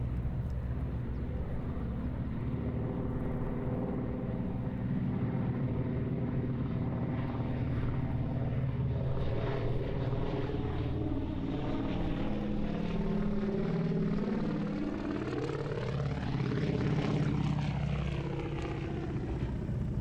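A Junkers Ju 52 propeller airliner, built in 1936 for Lufthansa, flies past at the Duxford airshow, its multi-engine drone steady and loud throughout with a rising and falling pitch sweep as it passes overhead.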